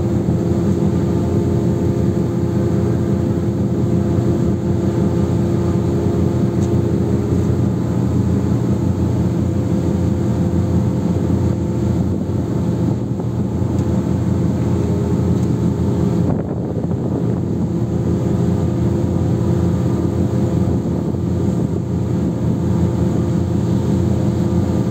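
A speedboat runs fast near a ship off Trapani, Sicily, a loud, steady engine and water drone continuing without a break.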